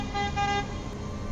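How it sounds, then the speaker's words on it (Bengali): A truck horn blares in a rain-wet road tunnel as one loud, close, tonal blast lasting under a second, with a low rumble of road noise beneath it. "ট্রাক ড্রাইভার টানা হর্ন বাজিয়েই চলেছে।"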